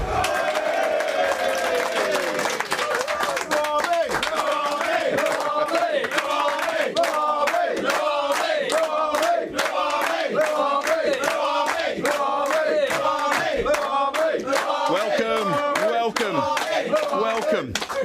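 A crowd at DPS Tech Arena cheers with loud, rhythmic chanting and regular claps, a continuous stadium-style roar repeating in a steady beat throughout.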